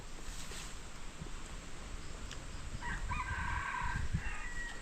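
A red junglefowl crows once at a distance, a faint rising call heard outdoors over low background rumble, with no talking.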